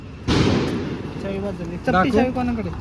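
A Diwali firecracker goes off with one loud, close blast, followed by its ringing tail while people talk loudly over it.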